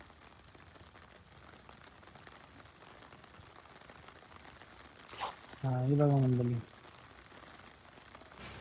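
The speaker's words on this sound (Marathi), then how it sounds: "भावांनो खूप पाऊस पडतोय" Heavy rain falls steadily near a river in a constant even hiss, with someone speaking briefly over it and a short loud burst of noise near the end.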